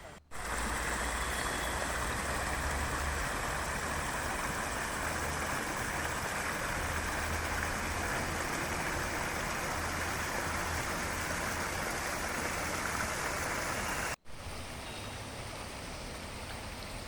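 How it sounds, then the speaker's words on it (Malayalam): Artificial stream at the Nilambur teak museum, water running down a built channel, gives a steady, loud, close rush of flowing water that continues unbroken for the whole stretch, with a brief dropout near the end. "മേലെന്ന് വെള്ളം താഴേട്ട് വരുന്ന പോലത്തെ ഒരു അരുവി പോലെ സെറ്റ് ചെയ്തിട്ടാണിത്."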